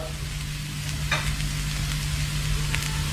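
Fragrant spices and other ingredients sizzle in a hot pan, a steady close crackle of frying. A few soft stirring scrapes sound over the constant hiss.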